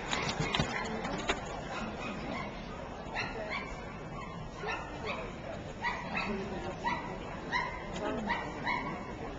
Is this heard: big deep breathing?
no